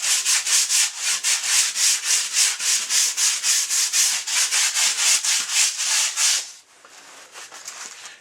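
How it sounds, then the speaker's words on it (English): An elk taxidermy form is scratched and roughened with steady back-and-forth rasping strokes, about three per second and close up. The scratching continues for several seconds, then stops, leaving quieter handling noise. "You can see where I'm scratching it all."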